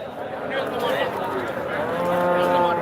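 A cow lows at a cattle market. The moos are clear and fairly close and sound over a busy background of market noise.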